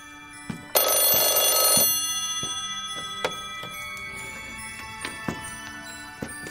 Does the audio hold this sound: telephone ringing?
yes